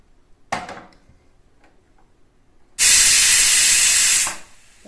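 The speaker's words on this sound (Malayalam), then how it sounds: "ഒരു വിസിൽ വന്നു, ഗ്യാസ് ഓഫാക്കാം. ആവിയെല്ലാം പോയിട്ടുണ്ട്." A pressure cooker on a gas stove cooking millet upma lets out a brief hiss, then after a pause a loud, steady rush of steam releasing for about a second and a half before cutting off.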